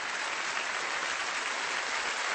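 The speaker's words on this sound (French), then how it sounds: "profite des applaudissements, ils sont sincères" A theatre audience applauds a singer after a live performance with orchestra, a thick, even roar of clapping that stays loud and unbroken for the whole stretch.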